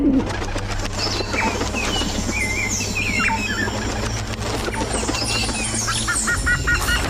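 Pigeons coo in low, rolling murmurs over a busy outdoor bird chorus, with occasional wing flaps and higher chirps.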